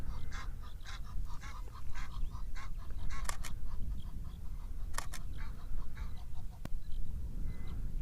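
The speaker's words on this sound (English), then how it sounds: "Trying to get rid of those geese." Geese honk outdoors in a noisy overlapping chorus, repeated calls rising and falling at middle distance over steady background rumble, with occasional sharp camera shutter clicks.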